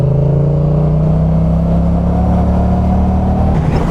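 A motorcycle rides along small country roads, its engine holding a steady, loud drone close to the rider with a slight pitch rise, wind noise underneath and a shift in tone near the end.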